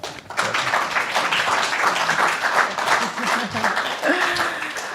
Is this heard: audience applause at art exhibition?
yes